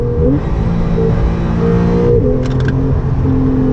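A Porsche 911 GTS engine with a PDK gearbox drones loudly and steadily from close up, then a very quick gearshift briefly breaks the pitch before the engine note settles back in.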